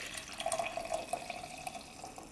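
Coffee from a French press being poured into a mug with a grill-top lid: a steady trickling liquid stream for a couple of seconds, close and alone.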